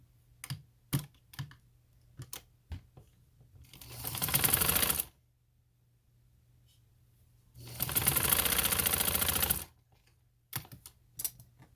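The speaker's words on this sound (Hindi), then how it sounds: "ये मैंने मशीन से अभी सिलाई लगा के बताती हूँ आपको" A sewing machine stitching a fabric sleeve runs in two steady whirring bursts of about one and two seconds, separated by close clicks and handling taps in a quiet room.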